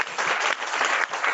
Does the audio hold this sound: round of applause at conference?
yes